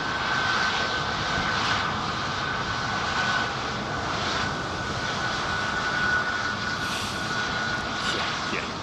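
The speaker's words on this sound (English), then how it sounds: "sometimes very early on in the taxi to gate process, the APU will be fired up" A jet airliner taxiing to the gate at Heathrow with its APU running, a loud steady roar with a constant whine and a faint high tone that never lets up.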